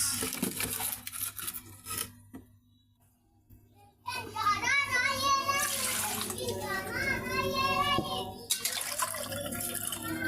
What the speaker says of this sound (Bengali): গরম পানিটা দিয়ে মাছটা আবার একটু ভালোভাবে ধুয়ে নিতে হবে